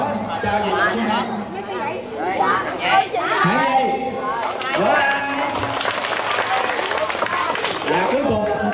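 Clapping from a crowd at a children's summer event prize-giving mixes with lively chatter and overlapping voices, a busy indoor gathering where talk dominates over the applause.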